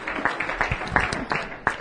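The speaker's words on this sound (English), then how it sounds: "Let's clap our hands unto the Lord" Church congregation clapping their hands during a service, a dense, close round of irregular claps with a few louder peaks and murmuring voices underneath.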